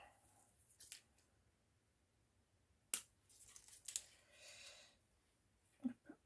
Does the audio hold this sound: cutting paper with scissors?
yes